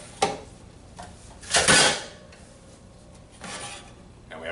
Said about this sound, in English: take our onion into the blades, and then we'll take our slices